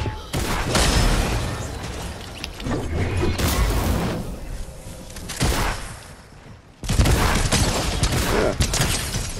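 Bursts of video game gunfire crack and roll loudly in rapid volleys, briefly dropping away before a heavy barrage resumes, with a team battle raging around it.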